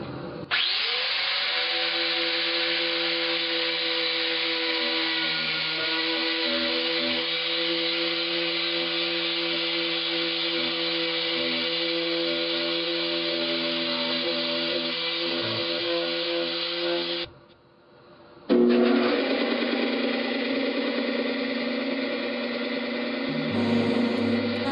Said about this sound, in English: You can use a metal grinding wheel on wood, and it does a pretty fast job